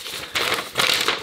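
Paper is handled and unfolded up close, giving two bursts of crisp crinkling and rustling separated by brief quieter pauses.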